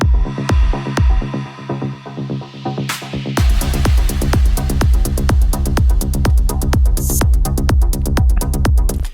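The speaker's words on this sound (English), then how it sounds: "let's just listen to a little bit to what the impacts are doing here" Punchy electronic track with repeated heavy kick-like hits and bright transient layers, building from sparse beats into a dense, driving stream of impacts with noisy swells and a sharp burst midway.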